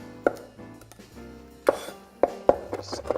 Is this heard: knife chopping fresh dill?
yes